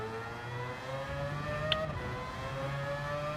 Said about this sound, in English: Sounds more like an F1 car than anything else